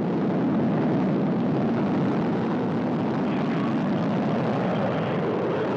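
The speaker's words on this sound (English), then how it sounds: "You can see the engines firing now, going up to flight speed and liftoff." Soyuz rocket engines roar at liftoff from Baikonur, Kazakhstan, as one loud, steady, broadband rumble that holds without a break and carries no voices.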